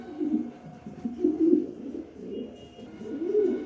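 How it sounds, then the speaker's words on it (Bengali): A male pigeon coos repeatedly in soft, throaty rolling phrases, nearby and moderately loud, with no talking over it. It is the cock of a big-sized pair of king pigeons. "এই যে নটটা ডাকতেছে"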